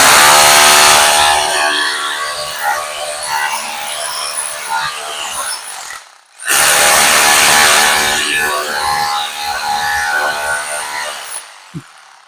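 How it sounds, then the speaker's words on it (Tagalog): Power tools at a nearby construction site, a loud continuous buzzing whine that cuts out briefly partway through and then resumes. "Hirap talaga pag construction. Maingay."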